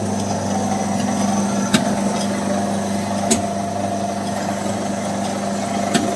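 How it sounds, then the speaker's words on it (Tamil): A traditional chekku oil press crushes groundnuts to extract oil, with a continuous mechanical hum and low droning rumble, punctuated by a few sharp periodic clicks from the machinery. "இப்போ செக்கில் போட்டு தயாரிச்சுட்டு இருக்கோம்."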